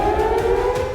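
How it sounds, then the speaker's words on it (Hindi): Air raid sirens wail steadily in Jerusalem after an Iranian missile attack, a loud sustained tone with no talk over it. "लगातार सायरन बज रहे हैं"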